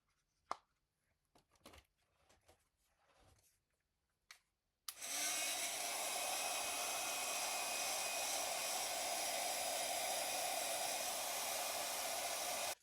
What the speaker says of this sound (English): I'm going to hit them with my heat gun.